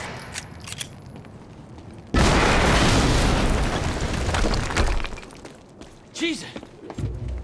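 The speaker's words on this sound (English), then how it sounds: "we just heard an explosion near the harvesting perimeter" A sudden loud blast in the video game Quantum Break bursts in after a quiet stretch, roaring for several seconds with a rumbling, crackling debris tail before fading into softer game sounds.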